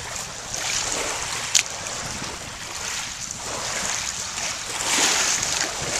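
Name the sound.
lake water waves at the shore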